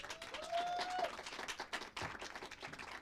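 An audience at a business speaker event claps steadily in a dense, continuous round of applause, with a faint whistle at the start.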